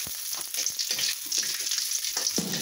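Lechon pieces fry with chili in a wok, a loud, dense sizzle with repeated stirring scrapes and clanks of the utensil against the metal, close up and with no talking.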